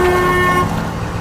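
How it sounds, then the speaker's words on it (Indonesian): A car horn from the film A Quiet Place Part II, blaring loud and sustained for over half a second before cutting off, leaving low rumbling vehicle noise behind. "Pria itu terus menyalakan klakson untuk memancing monster-monster tersebut supaya mengejar mereka."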